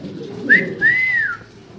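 One of a pair of fancy Art Angel pigeons gives a brief, clear two-part call: a short rising note followed by a longer, smooth whistle-like tone, heard close up.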